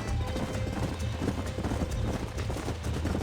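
Horses gallop in Red Dead Redemption in a dense, rapid drumming of hooves, loud and continuous, with low rumbling underneath and no speech.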